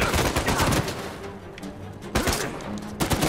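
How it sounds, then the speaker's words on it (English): Rapid automatic gunfire rattles in the Uncharted 4 video game, dense bursts up close with a pause in the middle and another burst after, while a player talks over it. "Just gotta keep shooting us."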